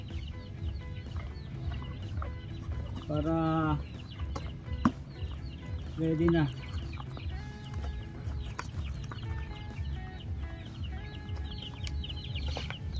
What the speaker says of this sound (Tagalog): ayusin na nga natin itong mga sisiw, yung mga manok,